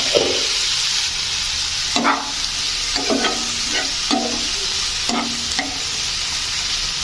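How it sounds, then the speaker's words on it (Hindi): Vegetables fry in a pan with a constant bright sizzle, and a utensil stirs and scrapes in short, repeated strokes. "ये सब्जियां इधर लगभग फ्राई हो गई हैं"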